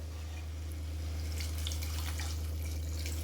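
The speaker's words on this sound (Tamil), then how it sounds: "இப்போ வந்து தண்ணி ஊற்றிக்கலாம்." Water pours into a pan of potato poriyal as it cooks, a soft steady splashing and trickling over a constant low kitchen hum.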